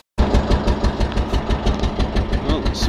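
A diesel engine running on alternative fuel chugs steadily with a rapid, rhythmic knocking pulse, heard up close and fairly loud after a brief silent start.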